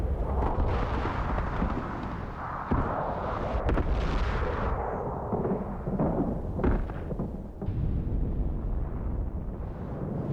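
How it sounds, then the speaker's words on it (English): A volcano erupting at night hurls lava from a burning mountain in a run of deep, booming explosions, each blast rolling into a long rumble, with no voices. "It's sending huge lumps of lava flying."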